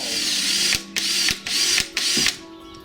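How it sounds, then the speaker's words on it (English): A power drill bores a 1/8 inch hole into a kayak hull to fit an anchor trolley, running in four loud sustained bursts separated by brief pauses before winding down. "you drill an 1/8 of an inch hole"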